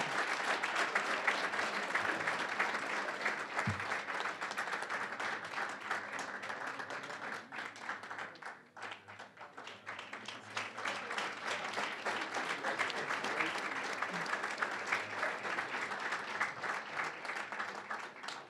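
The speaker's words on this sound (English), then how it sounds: "let's give these gentlemen another round of applause" Sustained applause from a sizable audience at a fraternity jacketing ceremony, steady and dense clapping that dips briefly midway before swelling again.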